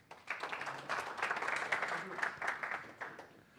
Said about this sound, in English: Maybe a round of applause for Robin.